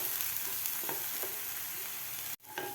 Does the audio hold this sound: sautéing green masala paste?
yes